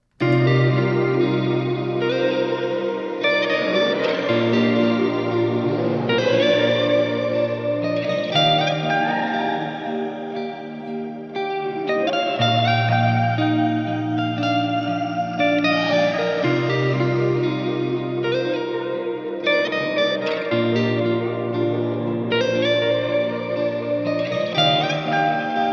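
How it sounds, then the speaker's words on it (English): A looping electric guitar phrase washed in lush, shimmering reverb, with sustained chords and echoing notes blending into a dense, ambient wash. "if I do my little warp sounds, or if I add shimmer, it's gonna sound a lot subtler this way"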